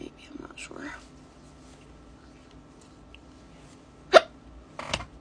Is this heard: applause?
no